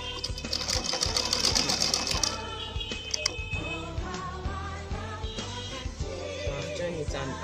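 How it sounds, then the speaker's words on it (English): A sewing machine stitches a fabric make-up box trimmed with Ankara strip, a rapid mechanical whirring chatter in short bursts, close and clear, with brief pauses and handling clicks between runs. "That's the last opening that I'm stitching."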